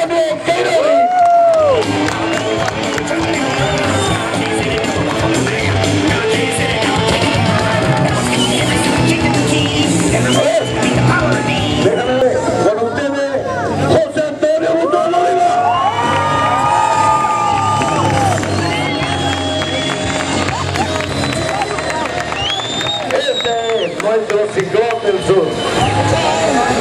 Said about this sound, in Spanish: Ese fuerte aplauso para Antonio Querori.